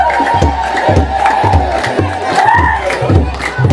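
A congregation at an Ethiopian Orthodox healing service ululates in praise of Saint Michael. The loud, dense crowd cries ride over a steady, rhythmic low thumping beat.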